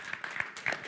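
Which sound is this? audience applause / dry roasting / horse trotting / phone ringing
audience applause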